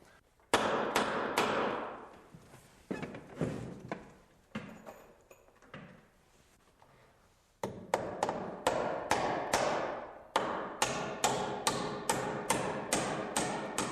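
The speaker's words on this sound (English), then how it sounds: "I'm nailing through the back of the hanger board into the carriages with some 16-penny nails" A hammer drives 16-penny nails through a hanger board into wooden stair carriages: two bursts of sharp, ringing blows in steady rhythm, close and loud, separated by a brief pause.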